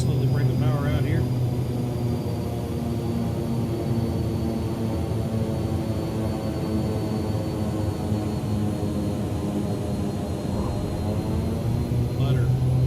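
Black Square Analog King Air turboprop engines in a flight simulator, power pulled back just after touchdown on the runway, hold a steady, even drone with a low hum throughout.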